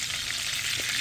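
Bacon-wrapped steak fingers crisp in a hot pan, giving a steady, dense sizzle that stays even and close throughout the brief moment, with no voices.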